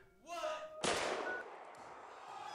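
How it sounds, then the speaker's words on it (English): One sharp gunshot cracks out loud and close, then decays in a rumbling tail, after a rising tonal sweep at the start. "Gunshot?"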